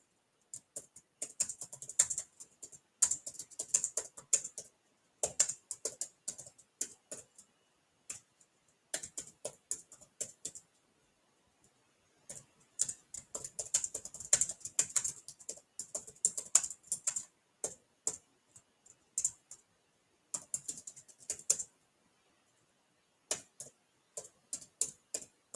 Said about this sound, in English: You can't see what you're typing.